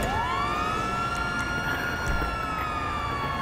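A wailing ambulance siren from the video game GTA 5 rises and holds steady, loud and continuous, during a Friday night car meet, with no talk over it.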